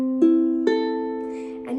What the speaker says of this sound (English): So make sure your ukulele is tuned up.